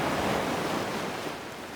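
Ocean waves wash onto a beach as a steady, loud broadband rush of surf, fading slightly toward the end, with no voices.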